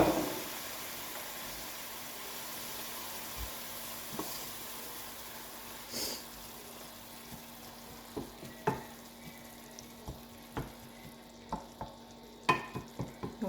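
Spiced kefta sauce searing in a Moroccan tajine, a steady close sizzle with soft scraping stirs and a few sharper clicks and taps of the utensil against the dish.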